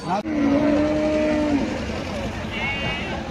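Cattle moo loudly nearby over the busy din of the Hazratpur cattle market in Bangladesh, with voices and other animals in the background.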